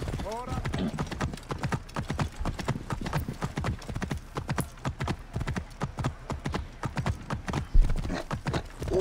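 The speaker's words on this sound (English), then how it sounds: "but we at least got a horse." Horse hooves gallop in a steady rapid clip-clop rhythm in the Assassin's Creed Origins video game during the siege of Alexandria, with someone talking over the hoofbeats throughout.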